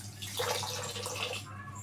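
Raw rice being washed by hand in a bowl of water for mutton biryani, a steady soft sloshing and swishing close by with no talk.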